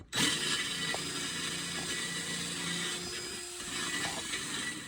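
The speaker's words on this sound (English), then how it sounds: "We can just touch the carbide burr on there and that'll just help the rust bath along." A carbide burr grinds rust off high spots on a metal piece with a continuous, close, rough whirring grind that keeps going the whole time.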